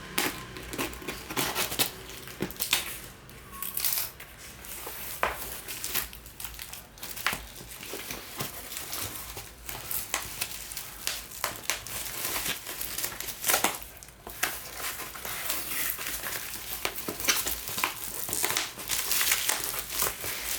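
Bubble wrap crinkling and rustling as a sales kit is unboxed, with continuous dense crackles and handling noises up close for about twenty seconds, no talking.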